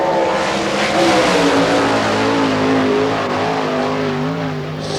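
The Denny Ashworth Racing 92 sprint car runs on a dirt oval track at an All Star Circuit of Champions race in Hartford, Ohio, its loud engine roaring steadily with rising and falling revs throughout.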